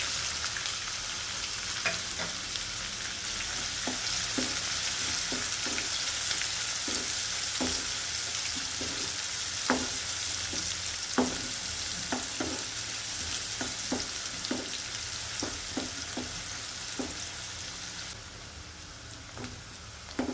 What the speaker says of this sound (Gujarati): આદુ મરચાં તળાઈ ગયા છે તો આપણે ડુંગળી નાખીશું ઝીણી કાપેલી